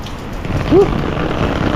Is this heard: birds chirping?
no